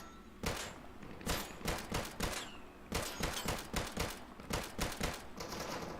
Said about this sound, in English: That gunfire is loud.